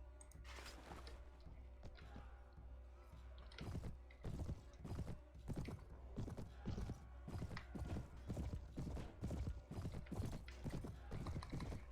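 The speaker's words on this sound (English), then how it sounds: "This horse is an ambler." An ambler horse's hooves clop rhythmically in a video game, starting softer and then settling into a steady, loud, closely spaced gait of repeated thuds with faint background game ambience.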